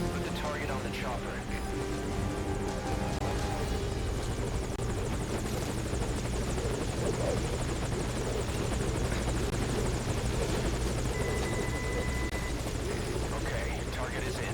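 A helicopter sits at a landing zone in the video game Metal Gear Solid V: Ground Zeroes, its rotor and engine making a loud, steady drone throughout, with muffled voices under it.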